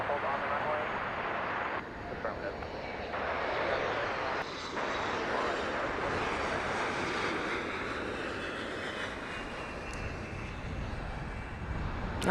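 Airbus A380 airliner engines at LAX airport give a steady, broad roar that holds loud through the whole stretch, with people talking over it at times.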